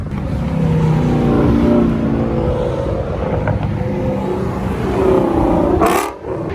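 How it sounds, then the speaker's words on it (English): A loud car speeds past on a highway, with a sustained engine roar and revving, close and prominent throughout, then a brief drop near the end. "I keep seeing these like crazy loud cars just whip by right here."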